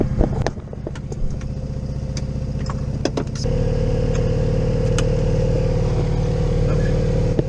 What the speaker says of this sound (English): now that the engine's starting to warm up a little bit, take part of the choke off